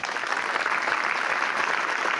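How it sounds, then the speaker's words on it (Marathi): Students at a school gathering applaud their teachers with a close, dense and even burst of clapping. It lasts a couple of seconds with no voices over it. "जरा सरांसाठी टाळ्या वाजवा."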